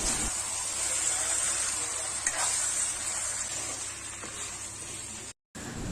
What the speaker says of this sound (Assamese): এতিয়া কেৱল এইখিনি ভালকৈ ভাজি থাকিব লাগিব